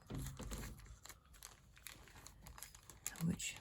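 A plastic packet of washi tape scraps is handled close by, crinkling and rustling throughout with brief louder crackles, while a person talks over it.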